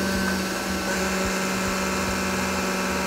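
Kitchen blender grinding seeds for a plantain mole, running with a steady, loud motor whir and some uneven rattling from the hard seeds.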